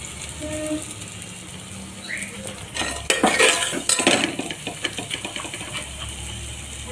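Spices sautéed in a pressure cooker pan for an egg tarka: quiet low frying noise, then a loud burst of metal spoon clattering and scraping against the pot that gradually eases off.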